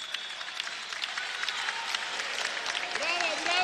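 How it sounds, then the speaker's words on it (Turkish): Fenerbahçe fans at a Turkish basketball league game cheer player Daniel Adams with a sustained wash of applause from a large arena crowd, heard under a commentator's voice. "Fenerbahçe taraftarı da Daniel Adams'ı alkışlıyor"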